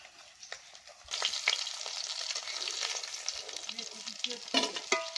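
Fish fried until very crisp in a pan on an outdoor picnic stove hisses and sizzles steadily at close range, starting quieter then swelling into continuous frying with occasional spatters and stirring scrapes.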